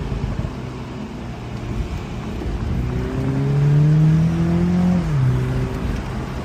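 Cars travel along a quiet country road, Bull Road in York County, Pennsylvania; one vehicle's engine note rises and swells as it approaches and passes, then fades, over a low steady road rumble.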